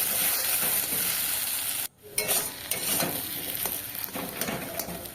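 Onion, garlic and shrimp paste are stirred and fried in a pan, giving a continuous close sizzle with scraping, and the sound drops off briefly partway through.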